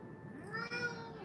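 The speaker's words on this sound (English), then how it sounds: "This cat wants to be the center of the attention today." A house cat meows in a few short, fairly faint calls indoors, heard alone without speech over a low room hum.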